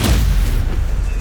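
The Incendio fire spell goes off in Hogwarts Legacy, a loud, close, booming whoosh of fire that swells at once and then rumbles and fades over about a second.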